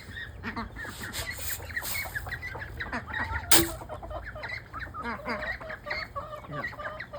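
Young pullets cluck busily while being fed scratch, a dense run of close, overlapping hen calls with a sharp clatter midway and some soft background chatter.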